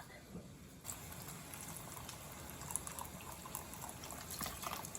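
Miso ginger broth pours steadily into a pot after browning, a continuous liquid splash and trickle lasting several seconds at moderate level with no talking.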